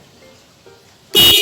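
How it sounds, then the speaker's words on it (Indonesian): A loud truck-style horn fitted to a Honda Mega Pro motorcycle blares in one sudden, harsh blast at the end, following quiet handling noises and a faint click. "Klaksonnya ngeri, iki klakson truk iki ya."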